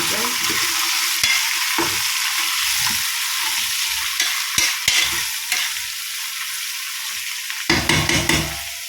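Sliced onions sizzling in hot ghee for ghee rice, a bright continuous frying hiss close up, broken by scattered spoon scrapes and taps on the pan, with a louder burst of stirring near the end.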